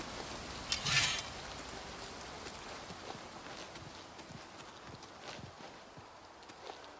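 Horse hooves clip-clop in the video game Oblivion Remastered, a faint, steady run of hoofbeats under soft rain-like ambience, with a brief louder burst near the start.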